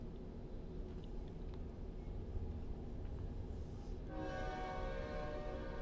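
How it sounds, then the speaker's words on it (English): A train rumbles past with a steady low roar, and partway through a horn sounds, sustained and fairly loud over the rolling noise. "the train's just going by us"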